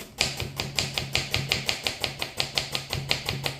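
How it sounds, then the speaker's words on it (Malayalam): A husband chops onions on a cutting board for Kerala-style chicken curry, making about twenty crisp knife strikes in a fast, even rhythm. The strikes are close and loud, with no talking. "ഭയങ്കര ഉള്ളി മുറിക്കലാണ്"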